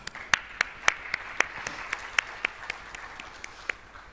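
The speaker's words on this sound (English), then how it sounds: "I think that deserves a round of applause." An audience at a brand launch event claps in scattered, sharp individual claps at a moderate distance, a light round of applause rather than a dense ovation.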